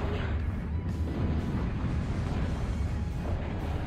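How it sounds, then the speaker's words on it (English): Torpedo explosions in the Total Annihilation strategy game, a continuous rumbling series of muffled booms rolling together without pause. "Those torpedoes hurt."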